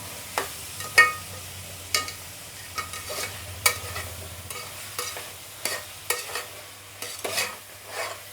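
Chopped capsicum for pav bhaji frying in a pan, close and clear, with a low sizzle under repeated sharp spatula scrapes and taps as it is stirred at an uneven rhythm.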